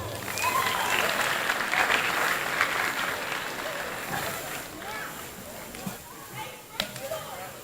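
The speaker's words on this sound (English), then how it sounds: "give him one more round of applause" A gym crowd at a high school homecoming wrestling dual gives a sustained round of applause that gradually fades into scattered claps and chatter, with voices talking underneath.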